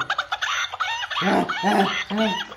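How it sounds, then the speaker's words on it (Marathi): A rooster clucks loudly and repeatedly up close, agitated rising calls in quick succession with brief pauses between them. "कोंबडा रे."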